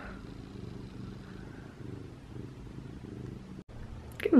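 A pet cat purring while snuggled up close, a soft low rhythmic rumble pulsing steadily in near breaths, quiet and intimate, ending with a brief louder rustle.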